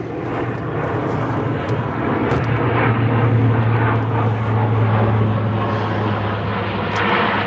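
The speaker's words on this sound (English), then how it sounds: "Yeah, we got another plane going by." A propeller airplane flying overhead, a loud steady droning engine hum that swells in the middle and fades slightly, heard from below in an open outdoor setting.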